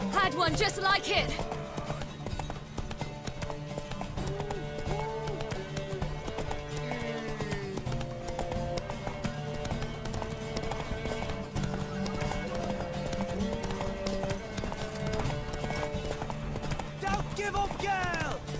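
Horse hooves galloping in The Witcher 3 Wild Hunt during a race to a tower, a steady clip-clop rhythm under music and character dialogue, with a neigh near the start.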